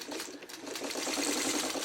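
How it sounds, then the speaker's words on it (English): A sewing machine runs steadily, stitching quilt blocks together for a checkerboard pattern. Its fast, even mechanical whirr and clatter stay close, with no voices. "I'm going to sew this and this together"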